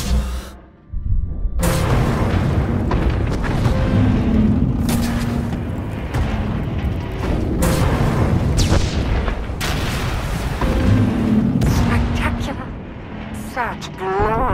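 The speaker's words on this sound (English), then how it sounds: "Firing now." Heavy weapon fire booms in SWTOR's Onslaught Mek-sha setting, a dense, loud barrage of blasts and rumbling explosions that runs almost continuously, with voices heard now and then.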